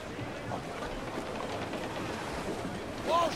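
In the video game Assassin's Creed 4, a sailing ship cuts across the ocean with a steady wash of waves and wind, moderately quiet, and a voice briefly at the end.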